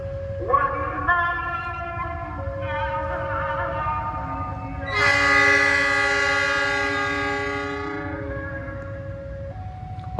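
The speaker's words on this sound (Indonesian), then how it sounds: "kita tunggu kereta apinya berangkat ya" The Wijayakusuma passenger train, running late after a locomotive fault, departs Probolinggo station with long, loud, close horn blasts that swell and fade over a steady rumble of the train.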